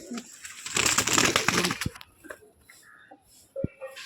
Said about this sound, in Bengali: নর পায়রা দেখুন, ডানাটা দেখুন।